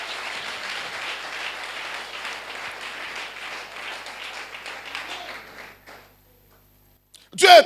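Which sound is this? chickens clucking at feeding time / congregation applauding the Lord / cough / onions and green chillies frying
congregation applauding the Lord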